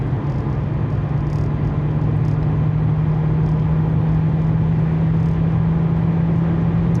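A 2004 Toyota Avensis automatic running on LPG under full-throttle acceleration, its engine giving a loud, steady drone with a constant low hum throughout and no talking.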